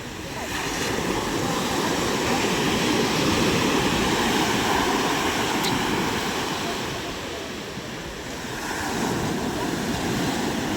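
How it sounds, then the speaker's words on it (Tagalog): Big ocean waves surge at the Julugan fishing boat terminal in Tanza, Cavite, making a loud continuous roaring wash that swells and eases slightly as the surf rolls in. "Grabe, lalaki ng alon."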